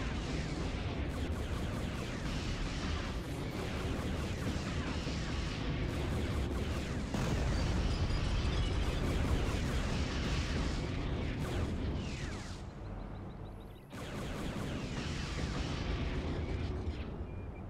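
Explosions from a bombing run in the Star Wars strategy game Thrawn's Revenge, a dense continuous barrage of rumbling booms and blasts, loud and sustained, briefly dipping near the end before resuming.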